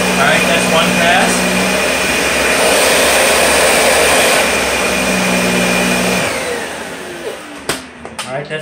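Vacuum cleaner nozzle, a Dyson DC65 or Kirby Sentria II, passing over carpet: a loud, steady motor roar with a high whine that runs for about six seconds before dropping away, followed by a few faint clicks.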